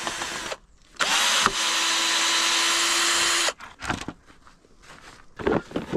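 A chainsaw roars close by for a few seconds, cutting steadily through wood, with shorter bursts of buzzing and rustling before and after.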